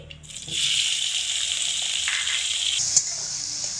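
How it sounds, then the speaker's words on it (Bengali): Chopped tomato drops into hot oil with a sizzling spice tempering for a vegetarian potato, pointed gourd and drumstick dish, setting off a loud, steady sizzle that swells at once and runs on close by, with a brief stirring clatter near the end. "প্রথমে দিয়ে দেব টমেটো কুচি"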